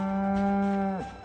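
A single cow moos in the video game Project Zomboid, a steady mid-pitched call lasting about a second before it drops off, heard alone.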